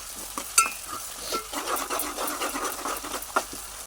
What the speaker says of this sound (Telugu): అంతైతే ఉల్లిపాయలు వేసుకొని దోరగా కూడా మంచిగా వేగింది.